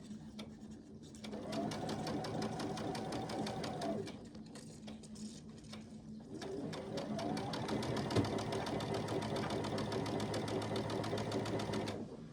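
A sewing machine stitches quilt scraps with a 1/4-inch seam in two steady runs of rapid, even needle chatter, close and fairly quiet, with a short pause between runs and no talk.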